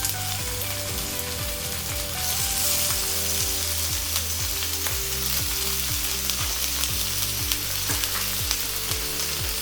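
Fresh chorizo sausages and chilli-and-cheese sausages fry in a cast iron pan, giving a loud, steady sizzle that crackles close by without pause.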